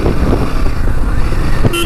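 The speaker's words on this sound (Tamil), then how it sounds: "ஹாரன் வந்து கொஞ்சம் லவுடராகவே நல்லாவே இருக்குது, கேட்குது நல்லா." A short, loud horn on a 2025 Royal Enfield Himalayan 450 motorcycle gives a brief toot at the very end, over the steady running noise of the bike.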